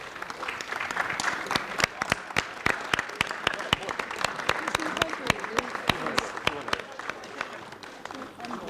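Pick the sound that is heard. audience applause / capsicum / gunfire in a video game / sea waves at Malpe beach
audience applause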